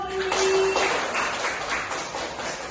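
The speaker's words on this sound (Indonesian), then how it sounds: "Oke, tepuk tangan dulu dong" A classroom of students claps for their teacher during a school lesson, a bright burst of applause that swells early and then thins out, with a tonal beep at the start.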